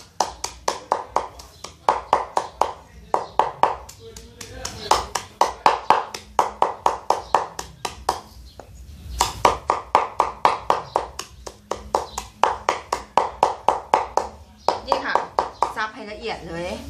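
A knife chops grilled catfish finely for Isan-style larb, striking a board in a steady rapid run of sharp taps that continues for the whole stretch, with a voice talking over much of it.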